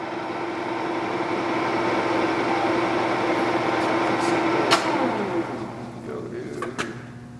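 A Takisawa 14x32 inch lathe runs with a quiet, steady mechanical hum and a faint tonal whine, broken late by a few sharp clicks.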